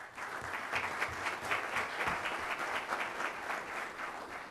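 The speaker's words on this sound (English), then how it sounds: "Give yourselves a round of applause." Sustained applause from a crowd at a public meeting of Kappa Alpha Psi, an even, continuous wash of many hands clapping at moderate distance, with no speech.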